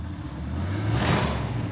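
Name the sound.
custom car exhaust outside the shop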